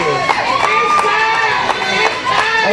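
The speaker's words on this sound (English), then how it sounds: "And you hear the crowd tonight" A wrestling crowd at a live event cheers and shouts in a steady, loud roar, with sharp, repeated rhythmic claps or stomps cutting through as a commentator talks over it.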